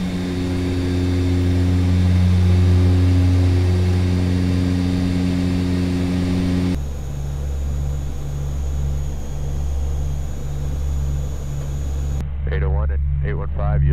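Loud, steady propeller-engine drone fills the cockpit of an HS 748 airliner as its flaps retract after takeoff, the tone shifting partway through, with radio-style voices talking near the end.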